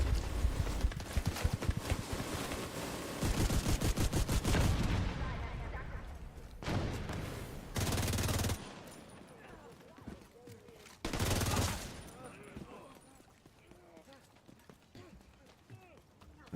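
Pistol gunfire in The Division 2, a rapid string of sharp shots at the start, then a few separate louder bursts, under ongoing game sounds and a talking voice.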